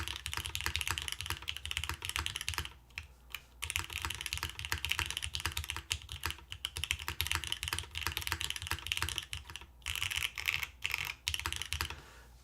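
Dense, steady typing on a custom MMStudio Class100 mechanical keyboard in a top-mount build, a fast run of crisp, loud keystrokes close to the microphone with a few brief pauses and no talk.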